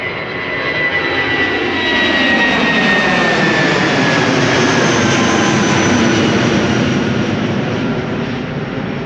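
JetBlue jet airliner departing Amsterdam Schiphol Airport for Boston: a loud, rising and falling engine roar that passes close by with a shifting whine, with no talking.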